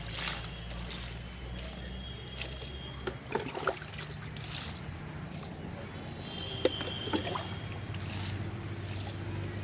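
Water pours and trickles steadily onto a potted dragon fruit plant in a garden, a soft continuous splashing close by with a few faint knocks.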